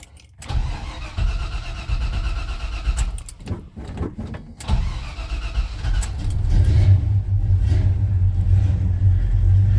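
A Chevy C10 pickup with a four-speed cranks briefly, then its engine catches and settles into a loud, steady rumbling idle close by.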